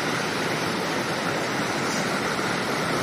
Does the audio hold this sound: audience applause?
no